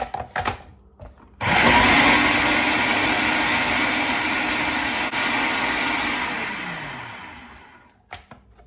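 A blender whizzes a seed mixture for vegan, gluten-free protein bars, a loud, close motor roar that starts abruptly, holds steady for about six seconds, then winds down, with brief quiet before and after.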